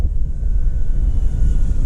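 A 1.45 m radio-controlled P-51D Mustang model airplane with a large 16x10 propeller makes a loud, steady, droning engine and propeller buzz overhead that continues unbroken.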